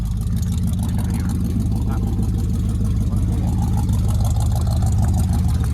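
A 1968 Ford Mustang V8 engine idles with a loud, lumpy rumble close by, steady and throbbing throughout, with faint voices in the background.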